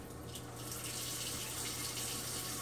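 Warm water runs steadily from a tap, a continuous close rushing hiss, used for cleaning Rapidograph technical pens, with no voices.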